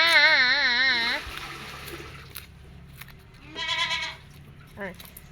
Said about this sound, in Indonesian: Dengar suara kambing.